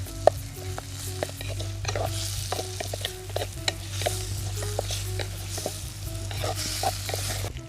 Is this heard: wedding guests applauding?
no